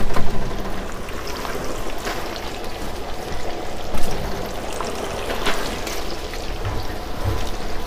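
Breaded pieces sizzling in a commercial deep fryer in a Curaçao kitchen, about 25 pieces per fryer: a constant crackling, bubbling hiss, moderately loud and close, with no talk.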